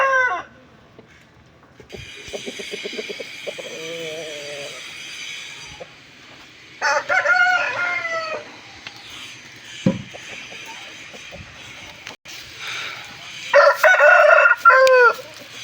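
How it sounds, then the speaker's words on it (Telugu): A rooster crows nearby, with a second crow near the end, over clucking hens and a steady farmyard background. "ఇది వచ్చేసి ఎర్ర కక్కెర అండి కోడి కక్కెర"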